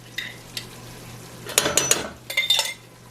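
Green olives are stirred into a pot of sopa de jamon, a spoon scraping and clinking against the pot in two short bursts over a faint simmer.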